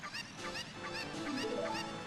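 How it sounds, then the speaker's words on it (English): A cucco chicken in the video game The Legend of Zelda: Ocarina of Time gives a run of repeated, nasal, honking clucks at a fairly loud, even level from start to finish. "Pick up this chicken."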